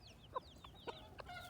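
Roosters and chickens clucking close by in a short, quiet burst of a few separate clucks and squawks over soft background noise.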